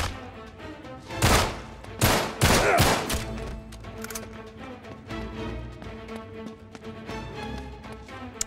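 Pistol gunfire in the PS4 game Uncharted 3: Drake's Deception: a few loud, sharp shots in quick clusters near the start, followed by quieter scattered pops and game ambience.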